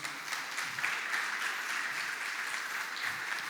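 Congregation in a church service applauding, steady dense clapping from many hands, moderately loud and continuous throughout with no voices standing out.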